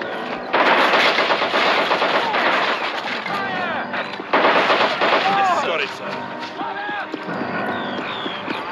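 Heavy artillery fire in the World War II strategy game Men of War, loud booming blasts with rattling gunfire bursts in a dense battle, mixed with whistling shell sounds and brief shouted voices.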